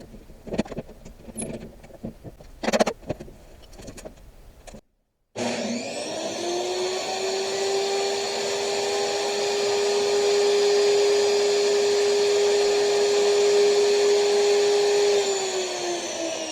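A power saw rips pallet wood into 2x4 boards: faint handling clatter and knocks give way, after a brief silence, to a loud sustained motor whine that holds steady and grows slightly heavier as the cut goes on.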